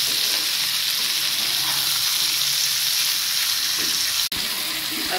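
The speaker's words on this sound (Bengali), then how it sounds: "এঁচোড়টা কষিয়ে নিতে হবে" Young jackfruit with salt and turmeric sautés in a pan, making a loud, continuous, dense hiss of frying that holds steady throughout, with one brief sharp break near the end and no voices.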